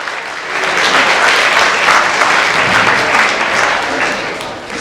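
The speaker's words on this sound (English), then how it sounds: "Round of applause for our volunteers." An audience claps steadily for volunteers at a workplace harassment training session, a dense and sustained round of applause at close range with no voices over it.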